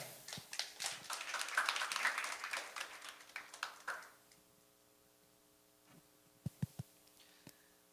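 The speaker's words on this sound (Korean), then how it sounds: "그럼 큰 박수로 플렉시블의 윤 대표님을 모셔보도록 하겠습니다." An audience at a startup networking talk gives a round of applause to welcome a company CEO, clapping lasting about four seconds, then fading to quiet with a few scattered taps.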